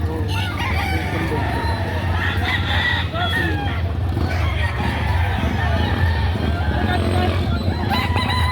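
Chickens clucking and a rooster crowing amid a busy outdoor market background, with people talking nearby about prices.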